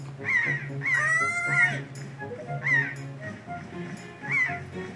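Seagulls call in a cutscene from Zelda: Wind Waker HD, with several shrill, harmonic squawks repeating in loose bursts over a low game music drone.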